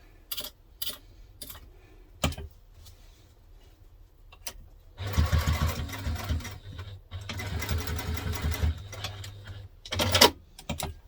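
A sewing machine stitches along the edge of a fabric bag in two loud bursts of steady rapid stitching, separated by short pauses, with scattered clicks and handling noises before and after.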